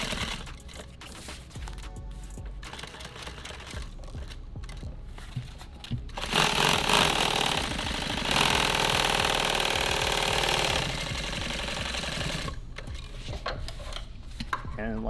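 A sewing machine stitches nylon tactical gear in steady runs of rapid mechanical whirring and clatter, louder in the middle stretch, with short pauses between bursts.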